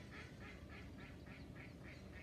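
Ducks quack in a steady repeating rhythm at a moderate distance, about eight evenly spaced calls over constant low background noise with no one talking.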